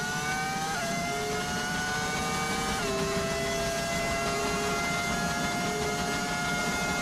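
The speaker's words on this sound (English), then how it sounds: "it's an audio mod to make it sound like a V10 engine" Racing car engine in the F1 25 video game with a V10 audio mod, a high sustained whine with tones stepping down through gear shifts, loud and continuous with no talk.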